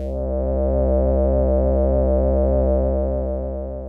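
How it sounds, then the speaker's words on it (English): A filtered synth square wave sustains one note, darker and smoother than a raw square, steady for several seconds before cutting off abruptly. "Processed square wave is like this."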